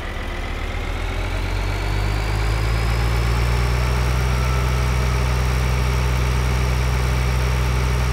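A tractor engine idles in Farm Simulator 2013, a loud, steady low rumble with a constant mechanical drone that holds unchanged for several seconds, with no talk over it.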